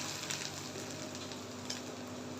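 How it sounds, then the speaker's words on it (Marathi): Ginger garlic paste sautés in a pan for paneer bhurji, a faint, even sizzle with light crackles running continuously beneath a low steady hum. "आलं लसणाची पेस्ट देखील थोडंसं एक दोन मिनटं परतून घ्यायचं"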